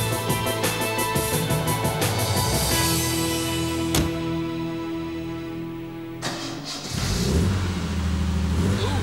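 A restored car's engine revs up and settles into a rough, uneven idle, loud and close, with a rising roar in the middle and a lumpy, unsteady rumble afterward.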